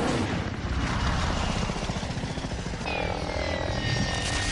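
A Black Hawk helicopter in flight, its rotor and engine roar loud, steady and close throughout, with a pulsing beat of the blades and a rising whine near the end.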